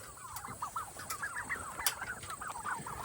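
Baby turkeys peep and chirp inside a coop, a close continuous chorus of many small high calls overlapping over a steady background hiss.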